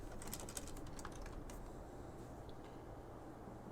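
Steady key clatter from a computer keyboard, a run of quick soft taps near the start that thins out, set against a constant low background hum with no one speaking.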